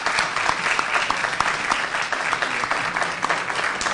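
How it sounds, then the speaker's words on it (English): Audience applause for the speakers at a direct democracy forum session, a dense, steady wash of many hands clapping for the full stretch, fairly loud and even with no talk over it. "we should give a big round of applause to all the speakers that we had"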